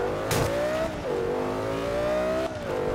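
In the Forza 5 racing game, a car engine revs hard in a steady, loud drone that climbs in pitch, dips briefly at gear changes, and climbs again.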